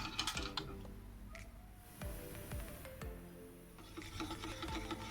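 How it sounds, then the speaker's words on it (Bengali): Oil, sugar and eggs are mixed for a homemade fruit cake batter, giving a faint mechanical whir with intermittent clicking and knocking strokes. "তেল, চিনি, ডিম ভালোভাবে ব্লেন্ড করে নিলাম।"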